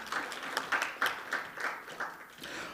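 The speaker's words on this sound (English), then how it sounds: "A warm round of applause to her," Conference audience in a hall giving a round of applause, a moderate wash of overlapping claps heard from a little distance, fading slightly toward the end.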